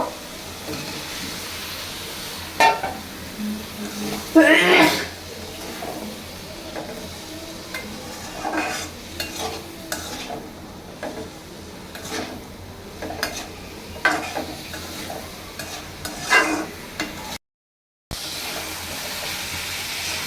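Vegetable stems sauté in a pan for a curry with shing fish, a soft continuous sizzle broken by scattered scrapes and clinks of stirring, one louder clatter early on, close with no talk.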